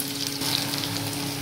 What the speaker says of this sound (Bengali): এটা কিন্তু ভালো করে পেঁয়াজটা ভাজতে হবে।